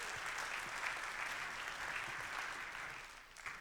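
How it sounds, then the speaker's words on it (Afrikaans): A church congregation claps together in sustained, dense applause that holds steady for several seconds before tapering slightly at the end. "Kom ons gee haar hande klap."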